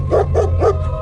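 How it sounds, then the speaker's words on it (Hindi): A dog in an animated horror story barks three times in quick succession, close and loud, over a low steady background hum. "अरे ये क्यों भौंक रहा है?"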